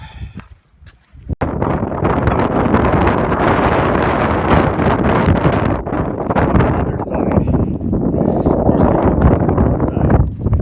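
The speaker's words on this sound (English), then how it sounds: "Plus, it's still windy out here." Strong wind roars steadily across the microphone on a Grand Canyon hiking trail toward Phantom Ranch, buffeting loudly almost the whole time, with a brief word spoken early on.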